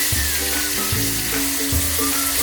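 Garlic fries over medium heat in a pan while being stirred, a loud close sizzle with scraping stir strokes for a creamy tilapia with coconut cream dish.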